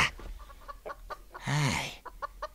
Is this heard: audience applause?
no